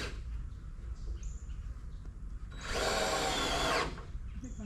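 Power drill driving a screw while framing windows in a barndominium build, one steady whirring run of about a second, close and fairly loud against a quiet background with faint chirps.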